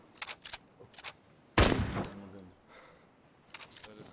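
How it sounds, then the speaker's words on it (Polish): Gunfire in DayZ: short bursts of shots, then a heavy blast that rings out and fades, followed by more scattered shots. "Dwa, trzy strzały."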